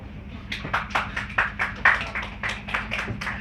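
A small audience at a wellness and psychic fair applauding, with sparse, distinct hand claps coming in an uneven rhythm over a low background hum.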